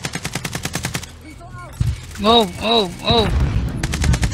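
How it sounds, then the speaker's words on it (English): Rapid automatic gunfire bursts in a Warzone match, loud repeated shots in clusters, with a player's brief exclamation of surprise partway through. "Who is he shooting at over here?"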